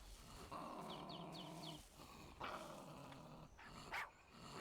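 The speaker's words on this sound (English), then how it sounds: "They really need to make these small dogs more aggressive" Small dogs in a survival video game growl low and continuously, with a few short barks and yelps between, close and fairly quiet.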